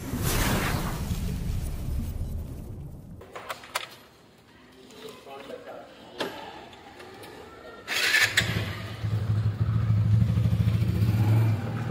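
A motorcycle starts up and rides off: an opening whoosh and rumble, a quieter stretch with scattered clatter, then the engine catches and holds a steady, close idle-to-running drone through the end.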